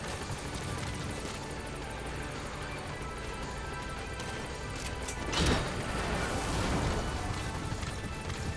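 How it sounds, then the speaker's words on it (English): A support helicopter arrives in the video game Metal Gear Solid V: The Phantom Pain, a loud, dense, continuous rotor and engine roar that swells briefly midway. "Support helicopter has arrived."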